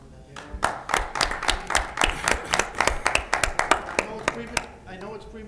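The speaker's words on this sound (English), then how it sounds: "you give them a round of applause" A round of applause at a city council meeting, a modest group of distinct hand claps in a quick irregular rhythm, fairly close, fading out at the end.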